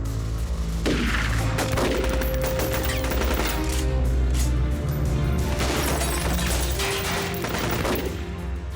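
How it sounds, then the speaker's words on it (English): Bursts of gunfire, rapid volleys of sharp shots over a dense noisy background, with a couple of heavier flurries. "The moment Castellano started to get out of the car, the shooters just blew him away."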